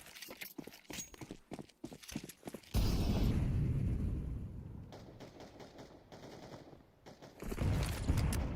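Grenades burst during a Counter-Strike match: rapid gunfire clatter gives way to a loud, rumbling explosion wash that fades, then another burst of blasts and shooting follows.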